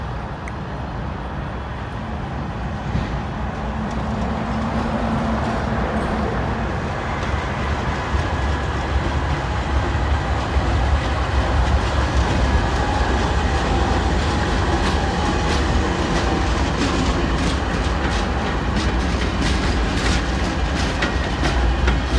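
A long CSX coal freight train rolls past steadily and loudly for the whole stretch, a continuous rumble of wheels and cars with rhythmic clickety-clack and no voices.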